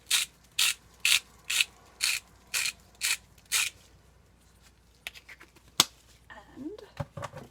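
A hand grinder being turned while making African black soap cream, giving a run of eight sharp, evenly spaced ratcheting clicks up close, then quieter scattered clatter and handling noises.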